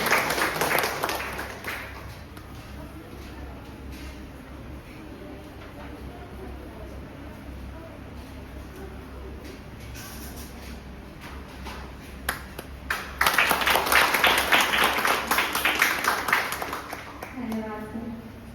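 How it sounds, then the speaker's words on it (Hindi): An audience at a National Service Scheme event breaks into loud, dense applause near the end, after earlier scattered clapping and speech from a host. "एक बार जोरदार तालियों से स्वागत करें।"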